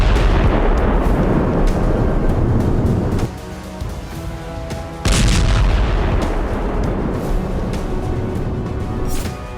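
Russian forces' land mines detonate in a test, a loud sustained rumbling blast that drops briefly, then a second heavy boom rolls on with deep roaring debris noise.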